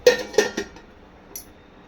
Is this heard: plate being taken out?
yes